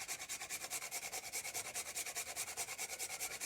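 Dry nutmeg rasped against a grater for sweet potato bread, a steady rapid back-and-forth scraping with even strokes about eight per second, close and moderately quiet, no voices.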